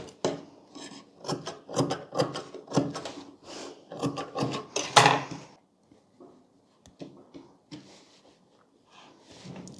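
Scissors cut fabric for a child's lehenga choli in a series of crisp, close snips and rasps over about five seconds, then a few faint scattered sounds.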